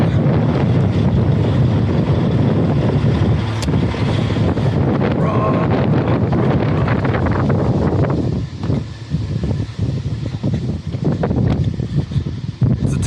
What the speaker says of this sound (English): Crazy windy out.